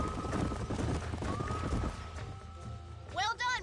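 Horses clip-clop at a steady walk in Red Dead Redemption, hooves thudding rhythmically up close before a horse neighs loudly near the end, with a voice talking over the hoofbeats.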